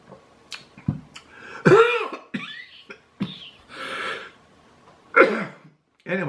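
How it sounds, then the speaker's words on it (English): A person clears their throat a few times, rough, raspy bursts close to the ear, separated by brief pauses. "I gotta clear my throat."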